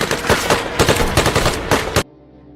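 Rapid bursts of automatic gunfire, loud and close, firing in an uneven rattling sequence for about two seconds before cutting off abruptly.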